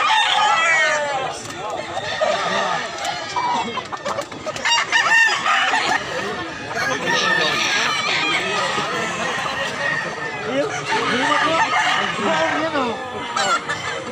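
Roosters and chickens at a crowded poultry market in Mantalungon, Barili, Cebu crow and cluck again and again, layered and busy, while people talk over them throughout.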